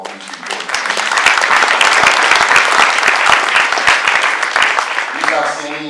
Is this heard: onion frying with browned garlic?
no